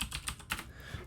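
A computer keyboard is typed on in a short, faint burst of a few quick key clicks, heard close and alone with no talking.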